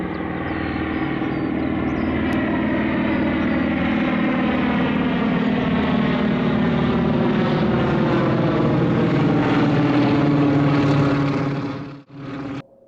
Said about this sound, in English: their movement was masked by the sound of a Ju-52 transport plane circling above